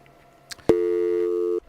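A telephone busy signal comes down a radio call-in line after the caller drops: one sustained steady tone starts abruptly after a brief click, holds for about a second, then cuts off.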